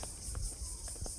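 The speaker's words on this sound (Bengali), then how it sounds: "আমি লাইফে ফার্স্ট দেখলাম যে দিনের বেলা ঝিঝি পোকা ডাকে।" Crickets trill steadily in daylight in a village, a faint continuous high-pitched buzz with no talking.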